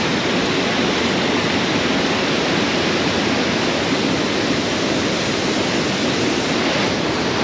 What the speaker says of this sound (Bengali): আর পাশ দিয়ে দেখছেন যে নদীটা বইছে।